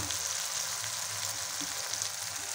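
Onions, tomato, green chillies and spices fry in a pan for an aloo paratha filling, giving a steady, close sizzle with faint bubbling and no voices.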